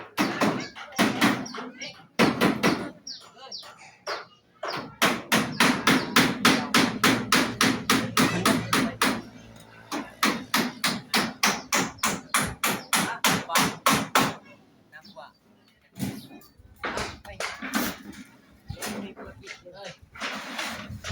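Rapid runs of sharp hammer blows striking nails, several bursts of fast repeated knocks with short pauses, close by, with people talking in between.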